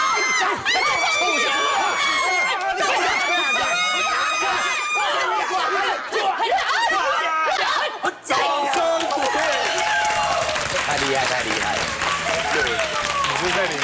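Voice actors in a studio imitate a screaming, chaotic crowd, piling up loud overlapping shrieks and yells that run continuously for the whole stretch and stay dense and loud throughout.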